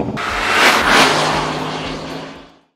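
A Range Rover Sport with a V8 petrol engine gives a brief, loud, close-up roar that swells twice and then fades quickly to silence.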